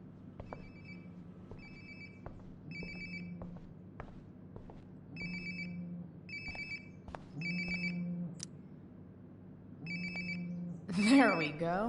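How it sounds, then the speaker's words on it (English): A phone rings repeatedly nearby in Life Is Strange: Before The Storm Remastered, a steady pattern of electronic ring bursts with brief gaps, over soft footsteps and background ambience, ending with a sharp louder sound. "Sounds like my phone is definitely nearby."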